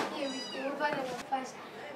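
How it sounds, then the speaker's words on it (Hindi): A cat meows a few times, close by, with other voices talking around it. "ये रही वो बिल्ली जो मैंने आपको ब्लॉग में दिखाया था, टॉमी"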